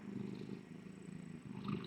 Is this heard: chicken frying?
no